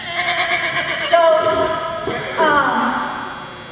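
A horse at an outdoor horse expo lets out a loud, close whinny with a falling tremble, then a second shorter neigh, amid background chatter.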